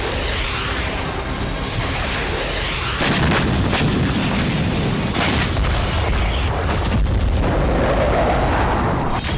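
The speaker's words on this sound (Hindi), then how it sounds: "अटैक एमएस और स्टॉर्म शैडो मिसाइलों से हमला किया गया।" Missile strikes by ATACMS and Storm Shadow missiles on a chemical plant, heavy continuous booming and rumbling explosions, loud and dense throughout without a break.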